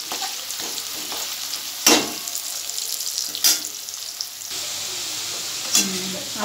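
Potatoes fry in hot oil for a vegetarian cabbage dish, a steady close sizzle with a few louder stirring scrapes and clatters spaced through it.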